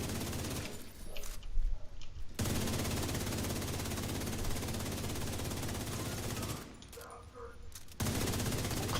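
Sustained enemy gunfire with machine-gun and turret fire in The Division 2, a dense continuous rattle of shots that fills most of the clip, with two brief lulls where it drops away.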